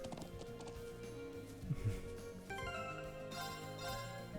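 A horse's hooves clop in the Trails of Cold Steel game, faint and quick, mixed under in-game music.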